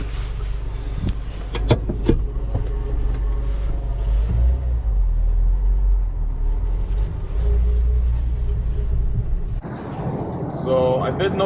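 A Jeep Wrangler TJ engine rumbles low and steady from inside the cab while driving, with a brief click near the start and a voice speaking toward the end.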